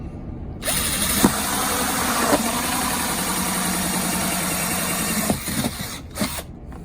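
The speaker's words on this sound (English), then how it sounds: "And we drill a hole through the middle here." Power drill driving a 2-inch hole saw through a plastic rain barrel, a steady loud whine and grind that starts abruptly and runs for several seconds with occasional catches, then stops.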